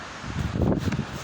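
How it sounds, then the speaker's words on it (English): Strong wind gusting outdoors at a Kansas welcome center beside a brick wall and concrete roof, a steady broadband rush of wind buffeting the microphone that swells louder in the middle and stays continuous throughout. "the wind isn't that bad, but as you can tell, it's blowing pretty hard actually"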